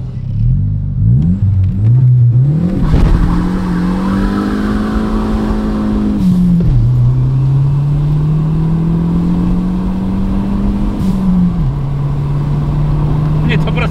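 VW Golf 1.8T engine revving hard and pulling through gears, with rising pitch sweeps and brief drops at each shift, loud and close inside the car while people talk over it.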